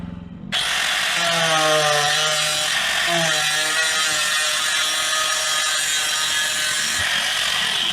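An angle grinder fitted with a 4-inch 045 cutoff wheel pierces and cuts through an enclosed trailer roof, a loud continuous high whine with pitch dips as the wheel bogs under load, alone and without talk.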